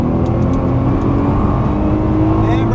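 Nissan GT-R under full throttle on a racetrack, a loud, steady engine roar that holds without pause and carries a continuous low drone with wind and road noise throughout.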